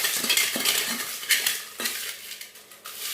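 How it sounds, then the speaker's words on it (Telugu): Roasted brinjal is mashed by hand in a metal bowl, giving repeated scraping and clinking knocks at an uneven rhythm. The sound is close and there is no talk. "ఈ గిన్నెని ఇట్లా రెండు కాళ్ళ మధ్యలో పెట్టుకొని ఇచ్చి ఇటు నలిపేయాలండి బాగా"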